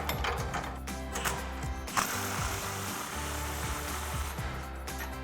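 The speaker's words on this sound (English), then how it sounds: "now we can take a 15mm socket to tighten down our clamp" A hand ratchet with a 15mm socket tightening an exhaust clamp on a Jeep Gladiator JT dual exhaust, giving a close, steady run of rapid clicking with a few brief pauses between strokes.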